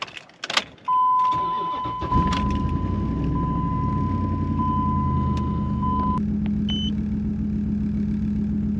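A 2004 Ram truck starts over a steady dashboard warning chime: after a brief crank the engine catches and settles into a loud, even idle close by.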